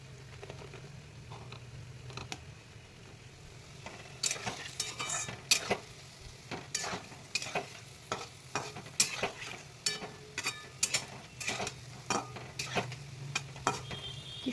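Large palm fruit fritters puffing up in hot oil, with a steady low sizzle and frequent sharp clicks and scrapes of a spatula or utensil stirring them in the pan, close and moderately loud, with no talk.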